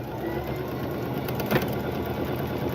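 A sewing machine runs a straight stitch at tension 2 and stitch length 2.5, a steady close mechanical whir that continues without pause and with no talking.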